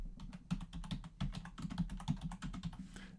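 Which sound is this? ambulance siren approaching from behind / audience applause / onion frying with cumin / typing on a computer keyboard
typing on a computer keyboard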